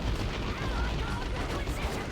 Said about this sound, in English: Plasma cannons from Serbly.